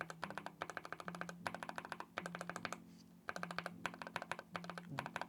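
Keystrokes on a Skyloong GK68s wooden keyboard with Gateron Oil King switches, some lubed and some not, come as steady runs of close, crisp, slightly thocky taps with brief pauses between bursts.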